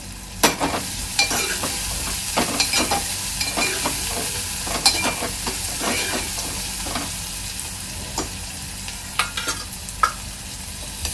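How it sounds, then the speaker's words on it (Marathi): Onion frying in hot oil while cooking chicken sukka, a steady low sizzle broken by scattered sharp clicks and scrapes of a spatula against the pan, close and fairly quiet. "तेल चांगलं गरम झालेलं आहे। यामध्ये टाकणार आहे मी कांदा।"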